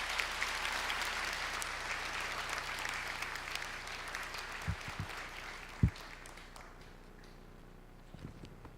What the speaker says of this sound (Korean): 함께 우리 박수로 우리 환영하도록 하겠습니다